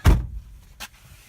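A car door shuts with a single close, solid thump, followed by a fainter click or second knock less than a second later inside the quiet cabin.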